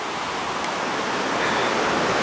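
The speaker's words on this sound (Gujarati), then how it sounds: "એવી જ વોટર મિલ આ ઘરની અંદર છે. જો પાણી આવે છે નીકળે છે" Water rushes steadily through a small house water mill in a mountain village, a continuous broadband roar close by with no voices over it.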